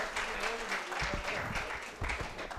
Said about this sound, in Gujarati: આપણે બધા એમનું તાળીઓથી સ્વાગત કરી લઈશું